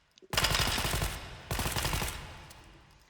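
An M14 rifle chambered in 7.62 fires full auto in the VR game H3VR: two loud, rapid bursts of gunfire, the second trailing off into a fading echo, with no talking.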